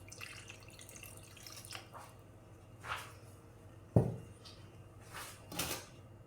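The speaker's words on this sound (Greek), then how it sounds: "Ρίχνω και λίγο νεράκι μέσα." A little water is poured into a home-cooked dish in a kitchen before it goes into the oven: faint, brief splashes and trickles with a few soft knocks, quiet and close, with no talking.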